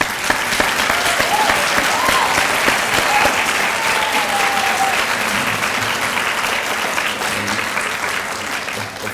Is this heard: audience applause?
yes